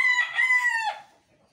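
A young rooster in a pen crows once, close and loud, in a single drawn-out call that fades quickly into quiet.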